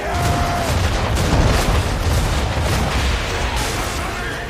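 Ship cannons firing during a naval battle in Assassin's Creed 3, a dense, sustained barrage of loud booms and rumbling blasts over roaring sea and battle noise, with shouted voices in the mix.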